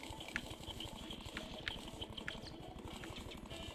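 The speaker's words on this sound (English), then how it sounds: "Oh wow, look at the waterfall down," A waterfall in the video game Terraria splashes as a continuous bubbling, pattering rush of water with small scattered drips, moderately loud and steady throughout, with no voices.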